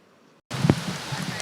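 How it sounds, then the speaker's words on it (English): Heavy monsoon rain in Phoenix, falling while the sun is still out: after a brief silence, a dense steady hiss of rain and hail begins abruptly, close and loud, with a dull thump early on. "rain coming down while the sun was still out"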